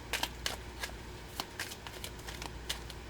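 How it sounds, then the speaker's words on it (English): A deck of tarot cards being shuffled by hand, heard as a run of quick papery riffles and soft slaps in irregular bursts, close and fairly quiet, with no talking. "the Intuitive Tarot, I have shuffled the shit out of this"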